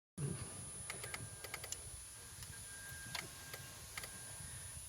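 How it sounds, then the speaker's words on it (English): Sharp, faint clicks from a test lead being touched to a 2007 Chevrolet Cobalt's crank sensor connector, coming in irregular bursts over a quiet hum. "you'll hear some clicking too. That's me doing that. I'm touching."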